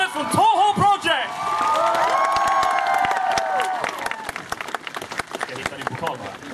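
A convention crowd applauds the cosplay contest winners at Närcon Summer 2014, steady clapping and cheering rising after an opening announcement, with a voice speaking over the noise.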